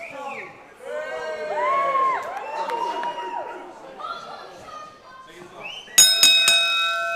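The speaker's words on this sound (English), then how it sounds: "the bell has rung, we're underway" Lively wrestling crowd chatter and cheering build up, then a bright ring bell is struck several times in quick succession near the end as a singles match starts.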